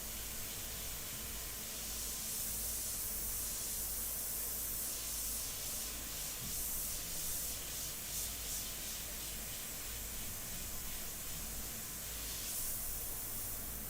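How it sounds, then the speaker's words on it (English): An airbrush sprays paint in fine lines on a portrait, giving a steady, soft, continuous hiss that stays at an even level throughout, with no voices. "with this airbrush I could really get the finest lines"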